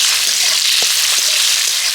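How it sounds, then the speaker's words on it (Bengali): Steady, loud sizzling of vegetables frying in hot oil for cauliflower chops, a continuous crackling hiss with occasional small pops. "এগুলোকে প্রথমে আমি তেলে ভেজে নেব"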